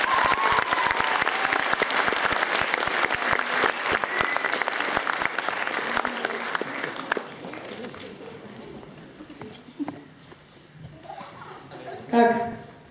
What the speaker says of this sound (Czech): Ještě jednou veliký potlesk.